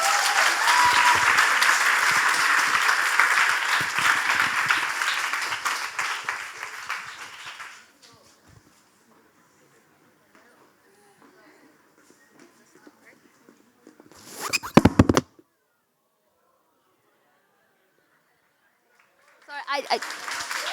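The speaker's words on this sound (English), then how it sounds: "So I guess we'll be applauding for like 5 times per award." A large audience applauds at a youth leadership summit award ceremony, with dense clapping that fades out over several seconds. Near-silence follows, broken by a brief sharp clatter, before clapping starts again at the end.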